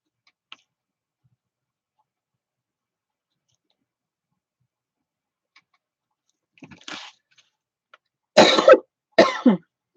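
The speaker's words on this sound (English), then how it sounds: "I'm just can't stop coughing" A woman coughs in a quiet room: a faint tap early on, then a small throat sound, followed by two loud, harsh coughs close to the microphone near the end.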